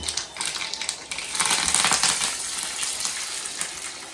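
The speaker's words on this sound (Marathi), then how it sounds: "तेल टाकलंय, त्यावर मोहरी टाकली थोडी आणि थोडा कढीपत्ता टाकणार." Mustard seeds and curry leaves hit hot oil in a home kitchen and sizzle loudly and close, with crackling pops that swell after the first second and keep going unevenly.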